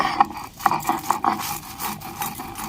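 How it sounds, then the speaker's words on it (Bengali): Spices are ground by hand in a traditional kitchen, giving a few close, soft rasping and rubbing strokes with light scraping in an uneven rhythm. "মশলাটা আমি গুঁড়ো করে নিচ্ছি"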